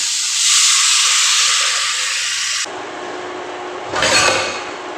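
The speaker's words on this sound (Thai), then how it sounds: "ใส่น้ำลงไปเลย" Water is poured into a pan of hot, oil-fried curry paste for a northern Thai gaeng khae curry, giving a loud, steady steam hiss that cuts off abruptly, then a second, shorter sizzling burst.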